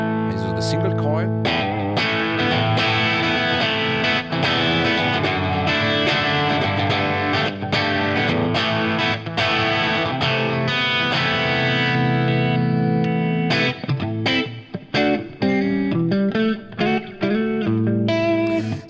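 A single coil electric guitar runs through a Fractal Axe FX3 rock preset, playing dense, continuous chords and riffs with a bright, driven tone, loud and close, ending in choppier strummed stabs.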